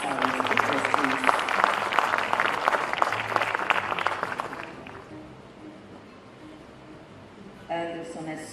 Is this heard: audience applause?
yes